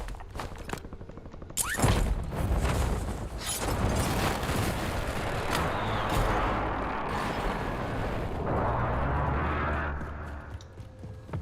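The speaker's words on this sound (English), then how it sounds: "Enemy airstrike in the area." Loud enemy airstrike explosions in a military video game: a sharp blast followed by a long, rolling barrage of booms and rumbling detonations lasting several seconds before fading out.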